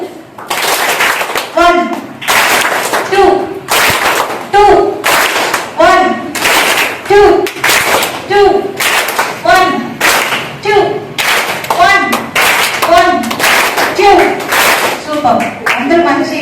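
Students in a district high school hall clap their hands together on cue, in loud repeated bursts at a steady rhythm that runs through the whole stretch, mixed with thumps and scattered voices.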